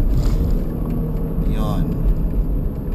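A car engine drones through the cabin in third gear, then a brief rising rev swell marks the rev-matched downshift into second, under steady road rumble and someone talking.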